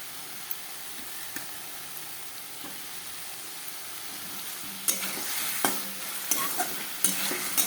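Potatoes and cauliflower stir-fry in hot oil with spices, a steady soft sizzle with scattered spatula scrapes and stirring clatter growing busier toward the end, no voices.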